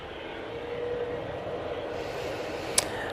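An Airbus A321neo passes over Manchester Airport, a steady broad jet roar at middle distance that holds evenly throughout, with one sharp click near the end.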